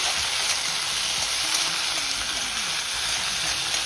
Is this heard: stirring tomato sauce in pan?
yes